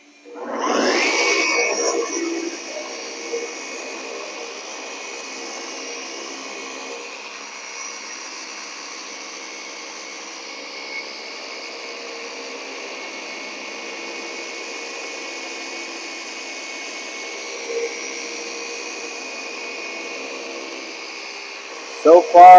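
A Flex 3401 car polisher with a replaced cord starts with a brief burst, then runs for about twenty seconds as a steady, even motor whine at moderate volume, with no stalling and a couple of small knocks near the end.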